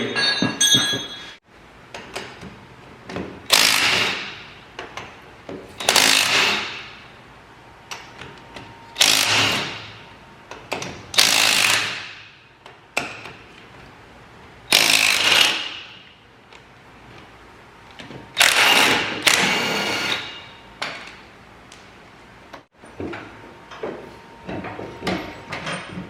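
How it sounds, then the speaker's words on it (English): Wheel being removed from a John Deere 1025R compact tractor fitted with fluid-filled tires and duals: repeated loud impact-wrench bursts spaced several seconds apart, with clanks of metal between them. "Let's take this wheel off."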